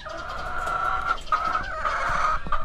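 Chickens clucking and calling close by, a steady overlapping chorus of hens with no talking.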